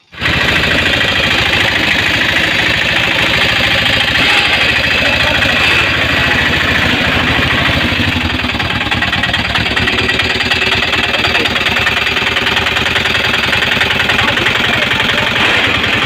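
A small auto rickshaw engine idles loudly and steadily nearby, a constant rattling chug with no pauses.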